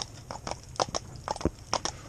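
Horse hooves clip-clop at a steady walking rhythm, close and distinct, with about a dozen crisp strikes and no talking.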